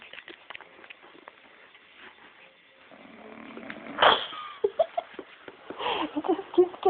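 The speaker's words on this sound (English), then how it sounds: "You snore again." A young woman snores very loudly while asleep, with quiet raspy breaths at first giving way to harsh, rhythmic snorts that grow louder toward the end, and people talk nearby over the snoring.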